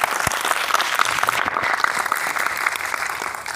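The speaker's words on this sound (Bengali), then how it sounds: "হাততালি আরো জোরে হওয়া চাই।" Audience applause at a Vestige stage program, a dense and steady clapping that fills the whole stretch at an even level, with no voices standing out.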